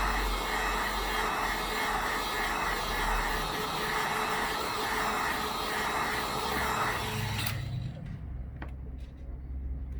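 A hot air station blows on an iPhone 11 motherboard during repair, a loud steady airy roar close by that cuts off abruptly near the end, leaving a faint low hum.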